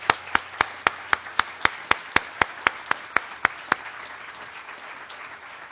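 At an alumni center groundbreaking ceremony, an audience applauds a group of young student award winners: evenly spaced, crisp claps ring out for about four seconds and then stop, leaving quiet room tone.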